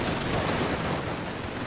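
Sustained crackle of massed gunfire from a Victoria Total War battle in the American campaign, a dense continuous volley that stays loud and steady throughout with no talk over it.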